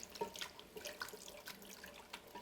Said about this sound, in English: This is a cold chicken stock, chicken broth, and we're going to add it to a hot mixture here.